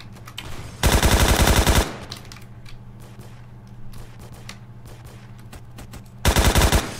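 AK-12 rifle fire in the video game Phantom Forces, two loud sustained full-auto bursts about a second long, separated by quieter in-game clatter and mechanical ticks, no speech.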